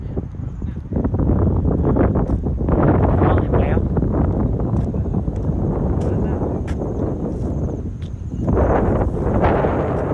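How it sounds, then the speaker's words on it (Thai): Steady, heavy wind buffets the microphone at a reservoir viewpoint at Bang Phra in Chonburi, a broad continuous roar that eases briefly and then surges again, with a faint high whine running through it. "ลมมันพัดอะ่ะ"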